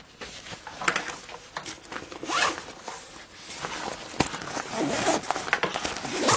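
Plastic zipper pulls with nylon cord loops being worked on an 18-litre Local Lion sport hiking backpack, giving repeated close, scratchy zipping rasps in several bursts over handling rustle.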